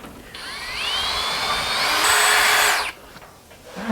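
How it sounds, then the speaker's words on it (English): A small buffer wheel spun on a power drill to clean a tire for patching, a loud rising whine that holds for about two and a half seconds before cutting off, close by. "I got me a little buffer wheel. I put it on my drill,"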